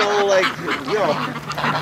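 Free-range ducks quack in a short, close burst of nasal calls, with geese sharing the yard.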